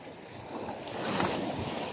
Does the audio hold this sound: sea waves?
yes